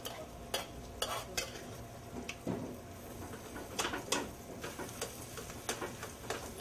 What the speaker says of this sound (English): I'm using a wire whisk to mash these up.